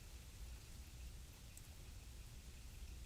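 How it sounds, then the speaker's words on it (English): Heavy rain pours down steadily at night, a dense, even hiss of drops on surfaces that continues without pause, fairly faint and with no voices. "now it's raining harder"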